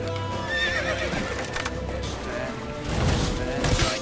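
Horses in The Witcher 3 video game, with several loud whinnies and neighs over a steady clip-clop of hooves, close by and mixed with game ambience and music.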